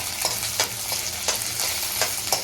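Green chillies frying in a pan, a close continuous sizzle broken by regular scraping strokes of a spoon or spatula, about two per second.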